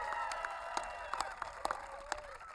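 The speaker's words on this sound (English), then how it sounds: "Let's give a round of applause to the President of the United States" A crowd in Eagle County, Colorado applauds the President of the United States at an outdoor national monument designation event, with steady distant clapping and scattered cheers blending into a continuous wash.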